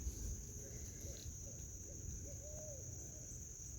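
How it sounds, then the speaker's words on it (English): An owl hoots faintly in the distance a few times over a steady, high-pitched chorus of crickets in a quiet garden before dark. "Just heard an owl hooting."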